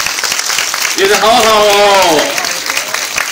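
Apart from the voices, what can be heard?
audience applause welcoming a guest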